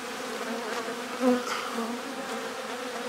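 Bees buzz in a dense, continuous drone around the feeder rim of a hive where burr comb is being built, close and steady for a few seconds.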